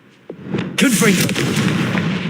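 A Confringo spell blast in Hogwarts Legacy: a sharp onset, then a loud, sustained crackling burst with a shrill magical rush, alone after a short lead-in.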